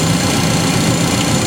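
A Subaru car engine idles after a coolant fill, with a steady, loud low rumble and faint vibration, unbroken and close.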